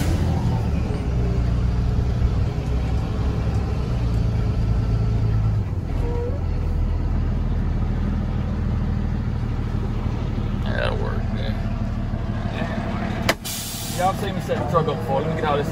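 An old truck's engine idles with a steady low diesel-like rumble throughout, loud and close, with a brief air-brake hiss near the end.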